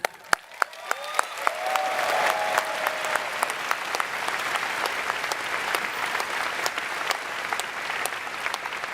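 An audience breaks into applause at a Canva announcement, opening with a handful of sharp separate claps that quickly swell into dense, sustained clapping from a large crowd, holding steady to the end.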